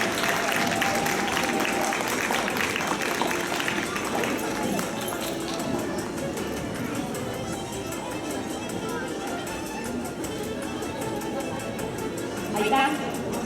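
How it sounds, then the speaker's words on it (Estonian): Sustained crowd applause for a coach at an award ceremony for rhythmic gymnastics groups at the 2016 Tallinn championships, dense steady clapping that fills the hall for over thirteen seconds with some voices mixed in. "suur aplaus treenerile."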